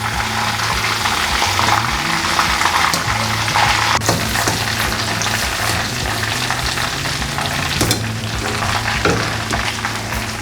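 Chicken deep frying in hot oil, a loud, continuous dense bubbling and sizzling that holds steady throughout, close up with no talking.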